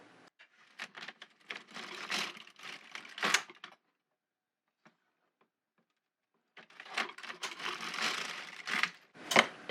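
Carriage passes of an LK150 knitting machine working stitches on circular mittens, a close, clattering mechanical rattle in two bursts separated by a few seconds of silence.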